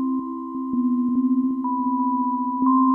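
Sustained Synthstrom Deluge FM synthesizer tones hold steady, with a piercing high note ringing above lower pitches and short rhythmic blips pulsing underneath.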